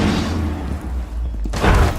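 A grenade explosion in the tactical shooter Rainbow Six Siege, a sustained low booming rumble that swells loudly near the end, with no speech.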